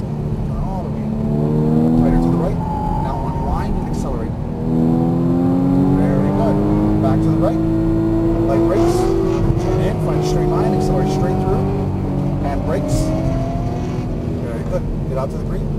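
Race car accelerating on a racetrack, engine note climbing steadily through gears with upshifts, continuous and close, while an instructor talks over it throughout.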